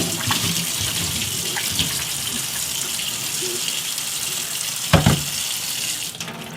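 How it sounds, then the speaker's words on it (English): Running water splashes steadily from a tap while brewing equipment is rinsed beneath it. The flow is continuous and fairly loud, with a short clatter near the end. "We'll give that a quick rinse."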